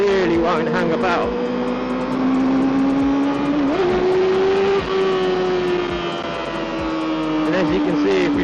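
A Kawasaki ZXR400 motorcycle engine revs hard and loud and close, its pitch climbing steadily, dipping briefly as it shifts, then pulling high again in a sustained high-revving wail.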